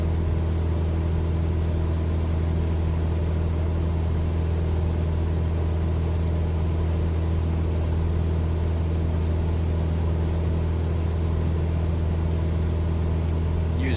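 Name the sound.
Cessna 172 engine at full revs while climbing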